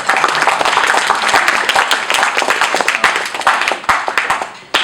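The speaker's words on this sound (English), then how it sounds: "So give yourselves a round of applause." At a high school poetry evening in New Hyde Park, the audience breaks into warm applause, many sharp hand claps blending into a strong, sustained patter that thins slightly near the end.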